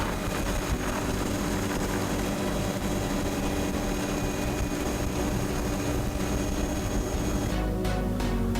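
Steady, loud engine and rotor roar of a tour helicopter taking off in Kilauea, Hawaii, with a brief burst of airy whooshing near the end.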